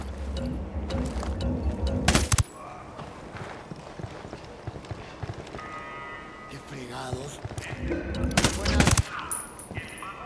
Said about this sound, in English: Tango heard the gunshot.